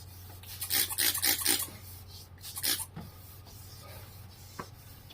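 A plastic headlight lens is hand-sanded with abrasive pads during a headlight restoration. Quick rhythmic rasping strokes come in two close bursts, then fade to a faint steady background hum.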